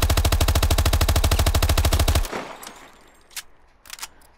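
Rapid full-auto bursts from the SAC 3 submachine gun in Call of Duty Advanced Warfare, a dense steady string of loud shots for about two seconds, then a quiet tail with a few faint clicks and handling noises.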